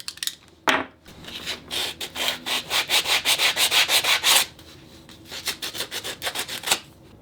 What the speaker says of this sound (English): Now I'll sand it.